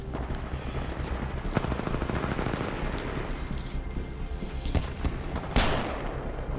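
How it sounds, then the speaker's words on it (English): Gunfire in the Titanfall 2 multiplayer video game, with a sniper shot among it: dense, continuous bursts of shooting with several sharper loud cracks and booms standing out near the end, and no voices over it. "I saw a sniper shot come from this side"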